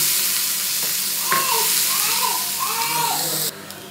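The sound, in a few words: finely chopped onion frying in oil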